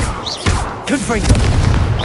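Confringo blast spell from Hogwarts Legacy, a few quick booming bursts and crackling pops close up, heard alongside battle effects and a spoken voice.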